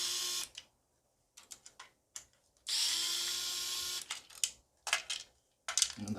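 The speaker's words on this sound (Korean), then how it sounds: "여기 보면 나사 두 개만 풀면 이제 콘센트는 풀어지거든요." An electric screwdriver unscrews two screws from an electrical outlet cover, giving short whirring bursts and one longer run separated by silences and small clicks and handling noises, close and fairly quiet, without talking.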